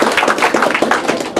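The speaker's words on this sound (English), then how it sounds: "I'd like to give him a nice round of applause for being here today" An audience gives a round of applause for a guest speaker, close and loud with a quick, rhythmic clapping texture that holds steady for a moment.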